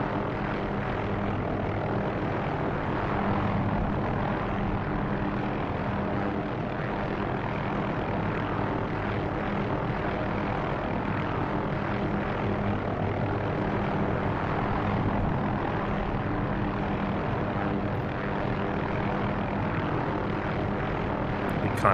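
A military-style helicopter taxiing out toward the runway at an airfield or heliport, a steady, loud, close engine and rotor drone continuing throughout without a break.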